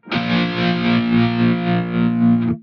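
Distorted electric guitar run through a French-made guitar amp simulator with a tremolo effect, a sustained chord pulsing steadily in volume about four times over a couple of seconds, loud and alone.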